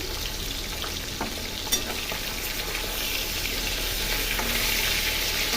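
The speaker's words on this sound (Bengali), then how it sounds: "মাছগুলো সব ভেজে নিচ্ছি" Fish pieces fry in hot oil with a dense, constant sizzle and crackle. The sound is close and steady, with one small clink partway through and no talking.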